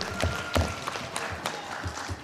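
Scattered applause from a quiz-contest audience for a competing team: a handful of sparse, fairly faint claps spread over a couple of seconds rather than a full ovation.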